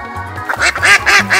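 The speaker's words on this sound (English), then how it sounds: "Duck." A duck quacking, a rapid series of loud, nasal quacks close by, repeating in a quick rhythm over a low background drone.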